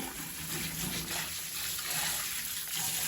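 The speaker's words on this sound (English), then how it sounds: "Time to use the sprayer one more time." Water from a hand sprayer rinses the inside of a soapy bucket, giving a steady, close hiss and gush that runs without a break and with no talking.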